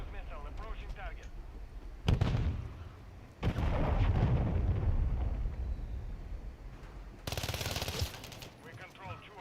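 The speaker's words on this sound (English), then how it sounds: "Friendly cruise missile approaching target." Video game Call of Duty Modern Warfare III: loud cruise missile strike, heavy booming blasts and rumbling impacts in bursts alongside gunfire, with a sharp crackling burst near the end and game voice chatter around it.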